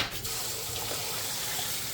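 A kitchen pull-down faucet with a sprayer runs water in a steady, continuous hiss, close and fairly loud, right after it is switched on.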